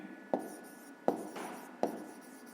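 A pen scratches on paper in three short, distinct strokes spaced about three-quarters of a second apart, close and quiet in a still room.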